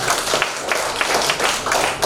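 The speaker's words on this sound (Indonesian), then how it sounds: "saya kira kita tepuk tangan dulu untuk Nusa Tenggara Barat" Audience applause at a government coordination meeting on information and communication technology infrastructure building, given for Nusa Tenggara Barat: a steady, dense wash of clapping that fills the room evenly, with no voices on top.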